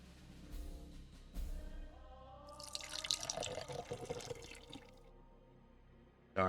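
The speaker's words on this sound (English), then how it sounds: "maybe I shouldn't have done that straight in front of the mic, but it was too late once I started pouring." Apple juice poured into a glass right in front of a microphone, a close, splashing stream that rises mid-clip, lasts a couple of seconds, then tapers off into drips.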